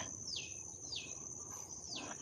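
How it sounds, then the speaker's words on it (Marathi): Three high, sweeping birds' chirps repeat at an even pace in the evening in a Konkan village, faint against a quiet background hiss. "आत्ताही आपल्याला पक्ष्यांचा आवाज येत असेल"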